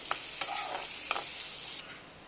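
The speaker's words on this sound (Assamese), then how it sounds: "পিঁয়াজখিনি ভাজা হ'বলৈ আৰম্ভ হৈছে।" Onions frying in chicken oil give a steady broadband sizzle, and a few sharp spoon clinks against the pan stand out, before the sizzle thins out at the end.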